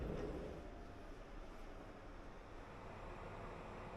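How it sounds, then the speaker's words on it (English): A train pulls slowly out of Budapest station, a steady low rumble heard from inside a passenger compartment, faint and continuous without distinct clatter. "Our train begins the slow departure out of Budapest a few minutes behind schedule."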